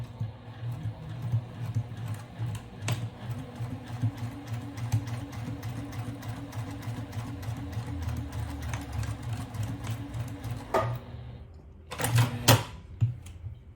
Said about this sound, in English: Okay, now I'm going to start sewing, and seam allowance is 1 centimeter.